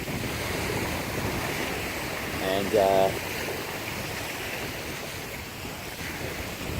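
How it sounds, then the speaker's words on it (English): River at high mid-spring water level, a steady broad rush of flowing water with wind across the microphone, and a brief voice saying a word partway through. "if you hear a lot of water, it's yeah, because it's kind of like mid-spring right now"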